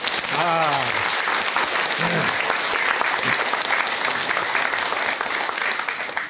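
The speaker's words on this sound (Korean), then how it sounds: "박수 한번 주세요" An audience at a Buddhist dharma talk breaks into loud, dense applause that holds steady for several seconds, with a voice speaking briefly over the start.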